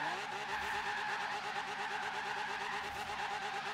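A low-power Nissan Silvia drifts continuously around a roundabout in first gear in a racing video game, its engine droning steadily while the tires squeal in a sustained, unbroken skid at close range.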